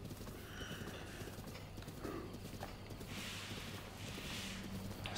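A horse gallops in The Legend of Zelda: Breath of the Wild, its hooves making soft, fairly faint clip-clop beats against a steady background of game ambience.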